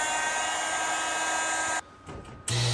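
Heat gun blowing steadily at close range to shrink heat-shrink tubing over a wire while installing a riser base and internal LED lights on an xTool M1 laser cutter; the loud airy roar cuts out briefly, then resumes.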